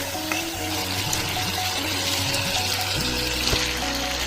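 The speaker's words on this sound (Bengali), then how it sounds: "যতক্ষণ এই মশলা কষিয়ে কাঁচা গন্ধ না যাবে ততক্ষণ আমি একটু জল দেবো না" Spice masala fries and gets stirred in a pan for a patal paneer dish, a steady close sizzle with scraping stir strokes running throughout, no voices.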